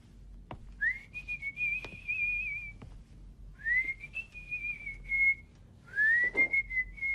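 A person whistles a tune in three clear, sustained phrases separated by short pauses, close and fairly loud, with a few faint knocks and no talk.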